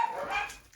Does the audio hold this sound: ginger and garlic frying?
no